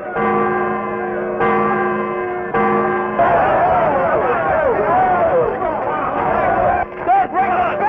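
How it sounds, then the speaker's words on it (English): A church bell rings out with sustained tolling tones, struck a few times, while a crowd murmurs and voices chatter underneath. "the Reverend ringing the church bell"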